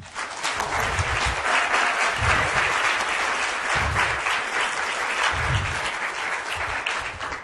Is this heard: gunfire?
no